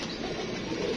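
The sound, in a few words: pigeons cooing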